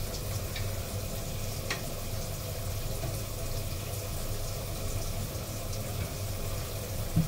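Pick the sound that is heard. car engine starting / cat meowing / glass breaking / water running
water running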